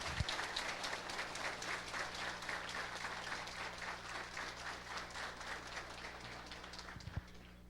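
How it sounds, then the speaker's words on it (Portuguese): Sustained, even applause fills the room at a diploma ceremony for elected officials from the municipality of Turvo, a dense wash of many hands clapping at once with no talk over it. "Aos diplomados do município de Turvo, peço uma salva de palmas."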